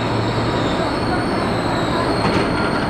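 A commuter train rolls steadily along the rails, with a constant loud rumble and a faint wheel squeal or hiss partway through, and no talk.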